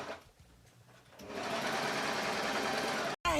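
A sewing machine stitches in a steady, close mechanical whir that starts after a quiet moment and runs loudly for about two seconds before cutting off, with a voice heard just after.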